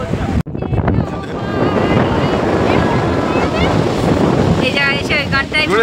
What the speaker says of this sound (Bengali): এত জোরে হাওয়া দিচ্ছে না, প্রচুর হাওয়া এখানে।